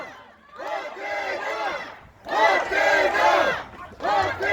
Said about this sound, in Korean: 박수 함성으로 허태정 후보님을 소개합니다